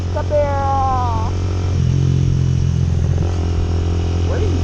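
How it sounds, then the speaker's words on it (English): A motorcycle engine drones steadily and close on a road, with its pitch shifting as it rides along and another motorbike nearby; no one speaks. "Hello, Mr. Teacher on the motorbike."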